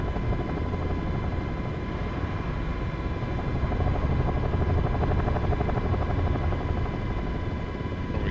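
MH60 helicopter in Microsoft Flight Simulator 2024, a steady, loud rotor thump and turbine whine running continuously throughout with no voices.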